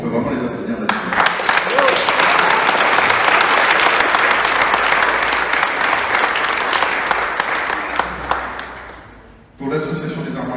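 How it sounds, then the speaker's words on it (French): Loud, dense applause from an audience at an art prize ceremony in La Rochelle, sustained for about eight seconds before fading, then a voice resumes. "je crois qu'on peut vraiment les applaudir là-dessus"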